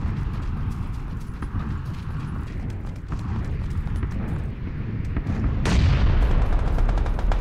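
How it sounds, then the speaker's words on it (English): A bomb explodes during a PUBG match, a loud deep boom that swells near the end over an ongoing rumbling, crackling backdrop of in-game noise. "No, that was a bomb."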